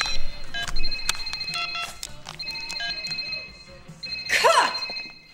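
A telephone rings in repeated electronic bursts of a bright tone, loud and close, with short gaps between rings and a brief voice near the end.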